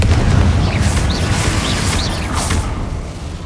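Booming blasting-spell explosion from Hogwarts Legacy, a loud rumbling burst that fills the clip, with whooshing magical effects and a few faint chirps layered over the sustained low roar.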